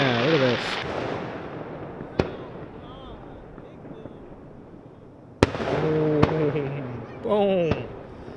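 Fourth of July fireworks go off at night, with several sharp bangs and cracks that echo across the area. People talk and exclaim throughout the display.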